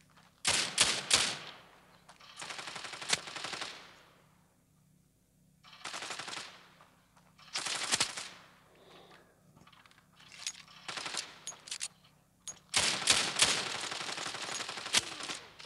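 Repeated bursts of automatic gunfire in a multiplayer shooter match, some shots fired through a wall, arriving as loud rapid volleys separated by short pauses across the whole stretch.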